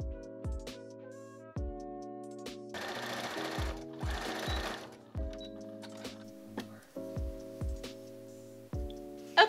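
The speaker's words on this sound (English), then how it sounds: "I'm just going to sew this right on top of the seam that we just sewed on the top part of the ruffle with a regular straight stitch" A sewing machine runs a regular straight stitch along a ruffle seam on a milkmaid top, its rapid mechanical chatter coming in several close bursts separated by short pauses and sharp clicks.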